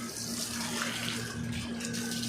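A steady, full rush of water pouring from a hose onto plants in hot outdoor weather in Jeddah, Saudi Arabia, close and continuous for the whole stretch with no talking.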